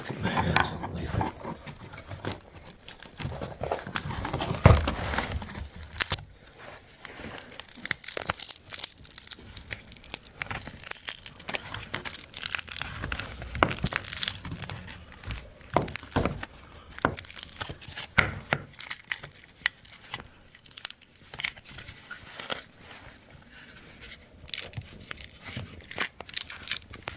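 A homemade rubber mould is peeled by hand off a plaster casting of a moulding, giving close, uneven tearing, crinkling and ripping noises that come and go in short bursts, with no talking.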